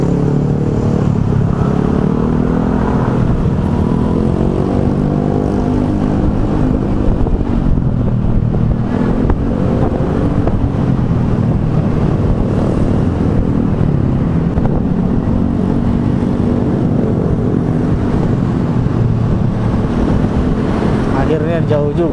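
An Alva One electric motorcycle on a morning commute from Bintaro, with loud constant wind and road rush from riding filling the whole stretch, no pauses.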